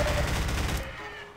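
Rapid burst of gunfire in Half-Life 2, loud and dense for under a second before cutting off abruptly.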